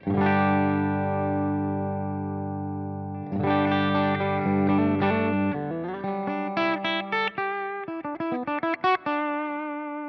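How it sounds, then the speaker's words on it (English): Clean electric guitar through a Line 6 Helix Cali Texas clean channel rings out in sustained chords, then shifts to picked single notes and short chord stabs, bright and close with a touch of chorus shimmer. "let's just see what this sounds like, just pulling up the clean with nothing else in the preset changed"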